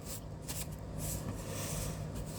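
Tarot cards shuffle close and quietly in a short burst of soft riffling and flicking, with no talk over it.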